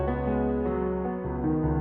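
Two layered piano presets in FL Studio sound together as sustained, harmonically rich chords, loud and continuous without pause, with only reverb on them.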